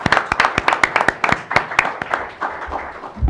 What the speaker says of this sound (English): Let's give a big applause to the panel.